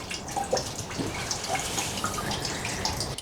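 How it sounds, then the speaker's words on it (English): Water poured into the coolant system of a Porsche Boxster gurgles and trickles steadily, close by, with small drips and splashes throughout and no talking. "I'm now going to pour some water in it so you guys can see exactly what we see when we try and fill it up"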